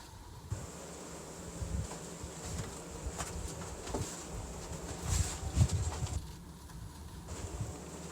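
Honeybees buzz steadily around a hive while a colony is being moved in with sugar water, a continuous close hum with faint coo-like bird sounds in the background.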